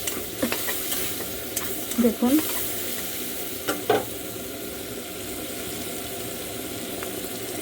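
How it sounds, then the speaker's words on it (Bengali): Vegetables for chow mein, including beans, stir-fried in a pan, sizzling steadily throughout with a few louder scraping stirs near the start, and a brief voice speaks once. "এবার সবজি ভাজছি, চাউমিনের সবজি।"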